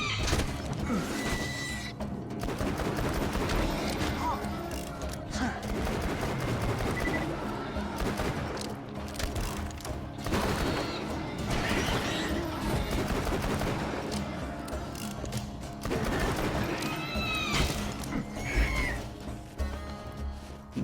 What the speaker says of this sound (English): This is why I love Jacob's pistols. Just so powerful.